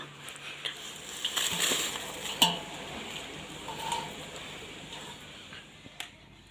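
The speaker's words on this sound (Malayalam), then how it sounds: "അപ്പോൾ അതിവിടെ അങ്ങനെ ഇളക്കിക്കൊണ്ടിരിക്കുകയാണല്ലേ" A utensil scrapes and clinks against a cooking pan as food is stirred in irregular strokes, with occasional sharper metallic knocks. A faint sizzle runs underneath, and the sound is quiet and close.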